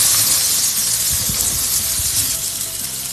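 Seasoned meat sizzles loudly on an oiled grill over medium heat, a dense close hiss with small crackles running steadily throughout.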